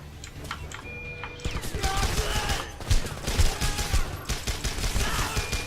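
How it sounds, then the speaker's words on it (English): Gunfire rattles through a Homefront video game scene in rapid, uneven bursts of sharp shots that grow louder partway through, mixed with clattering in-game noise. "Lots of shooting."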